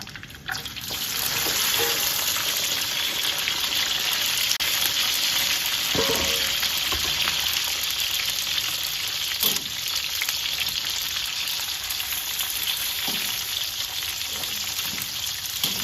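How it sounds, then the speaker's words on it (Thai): Onion and bell pepper fry in a pan for a Thai cashew chicken stir-fry, a loud, dense sizzle that holds steady for the whole stretch, with occasional faint knocks of stirring. "เราก็จะนำหอมหัวใหญ่นะคะ แล้วก็พริกหวานลงมาทอดค่ะ"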